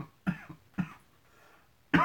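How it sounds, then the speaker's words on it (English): A person gives a few short, close coughs, two quick ones spaced apart and another harsher burst at the end, in a quiet room. "I don't want to have a coughing fit, so I'm just trying to chill."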